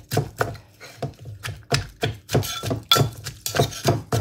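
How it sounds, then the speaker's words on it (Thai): A pestle pounds shrimp paste in a mortar for a green mango salad, a steady series of loud, close, thudding strikes roughly every half second, with no talking. "กะปินี่โขลกลงไปเลยนะคะ"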